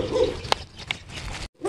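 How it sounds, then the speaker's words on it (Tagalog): A large dog barks outdoors during a walk, a few brief sharp barks at middle distance mixed with footsteps and ambient noise, ending in a short pause. "Merong tumatahol na aso."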